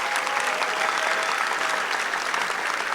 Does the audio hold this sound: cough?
no